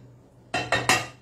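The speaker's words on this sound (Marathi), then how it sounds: "त्याला मी आता इथे एका प्लेटमध्ये काढून घेते." Roasted seeds for chocolate ladoo being tipped onto a plate, heard as three quick, bright clinks of utensil against dish close by, with quiet before and after.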